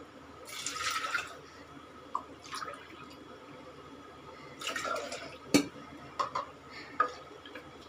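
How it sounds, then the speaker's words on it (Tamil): Water poured into a pot while making sambar, heard as a few short splashing bursts with drips and small knocks in between, close up and fairly quiet, with no talking. "இப்போ இதில் ரெண்டு கப்பு அளவுக்கு தண்ணி விடுவோம்"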